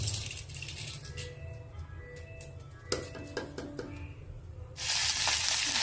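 Mustard seeds and cumin crackle and sizzle in hot oil during tempering for a white chickpea snack, with occasional pan clinks, before a sudden louder burst of frying.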